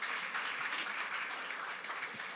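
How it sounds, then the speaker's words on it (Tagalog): A church congregation at a Sunday service claps loudly and steadily, a dense, continuous wash of applause from many hands with no break. "Sa lahat po ng excited, pumalakpak ng malakas kay Lord."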